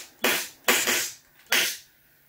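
A WE Glock 18C Gen 4 airsoft pistol fires three sharp semi-automatic shots, two close together and a third after a short pause, loud and close with no talking.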